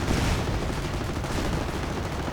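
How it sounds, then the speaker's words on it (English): Battlefield gunfire from a Puma armored car and a StuG assault gun in a World War II strategy game, heard as a dense, steady roar of overlapping shots with no voices. "Puma keeps firing, so does the Stu-42,"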